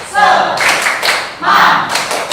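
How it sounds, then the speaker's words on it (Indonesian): A class of students doing a rhythmic spirit clap (tepuk semangat), two short bursts of loud, close group clapping separated by a brief pause, with voices mixed in. "Kita tepuk semangat dulu ya."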